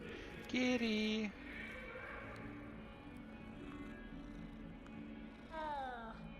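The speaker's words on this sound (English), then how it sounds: "Kitty!" A cat in the Hogwarts Legacy video game gives a couple of close, clear meows over a soft, continuous low purring bed, with quiet game ambience between them.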